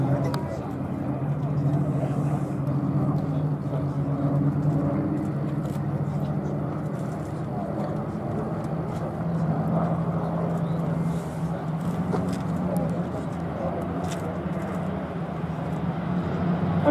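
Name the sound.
P-51 Mustang aircraft flying with B-17 Sally B at Duxford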